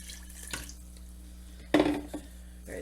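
Water runs from a kitchen tap into a cooking pot, with a brief splashing gush rising over a low background hum and then fading.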